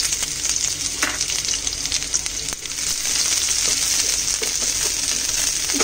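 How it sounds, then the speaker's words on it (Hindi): Chopped onions frying in a spoonful of oil in a pan, a steady close sizzle and crackle with faint stirring scrapes and a few light clinks, no talk. "एक पैन लिया है, इसमें हम एक चम्मच तेल डाला है। अब इसमें हम अपने कटे हुए प्याज डाल देंगे"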